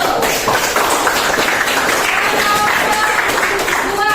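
A classroom audience applauds a student group during a history lesson, a continuous loud wash of many hands clapping with some voices mixed in.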